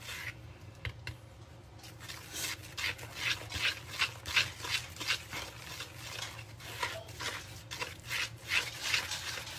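Cookie batter of cake mix, melted butter and two eggs is mixed by hand in a bowl, making close, rhythmic rubbing and scraping strokes that repeat steadily throughout.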